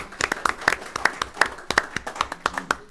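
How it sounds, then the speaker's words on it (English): A small round of applause at a county board of commissioners meeting, with a handful of people clapping in a loose, uneven rhythm of distinct sharp claps, fairly close and moderately loud. "So, round of applause for her,"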